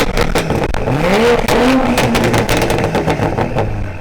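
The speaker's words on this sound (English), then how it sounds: "So now we're gonna rev all three of these cars and see which one of them sounds the best" Loud BMW engines (S55, B58 and S58, in an M3, M340i and A90 Supra) rev up and down with rising, falling pitch sweeps, close by, with crackling exhaust pops between the revs.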